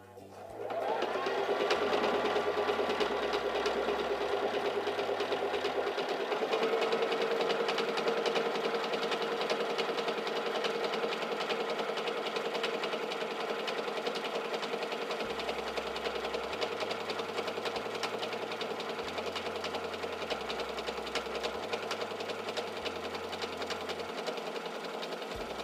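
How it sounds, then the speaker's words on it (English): A Singer Simple 3337 sewing machine sews a honeycomb stitch, giving a steady, loud, continuous mechanical whir with a rhythmic pattern that runs for about twenty-five seconds without any talk. "Place your fabric under your presser foot, lower your presser foot, and then press on your foot control."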